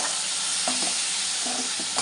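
Oil hisses and crackles loudly and steadily in a pan as shrimp fry, with a couple of soft utensil taps as they are turned.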